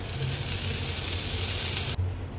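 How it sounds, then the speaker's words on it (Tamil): Onions and tomatoes with a little salt sauté in a pan for mushroom rice, giving a steady, close sizzle with a soft low rumble and no voices. "தக்காளி அண்ட் வெங்காயத்தை கொஞ்ச நேரம் இந்த மாதிரி வதக்கி விட்டே இருக்கலாம்"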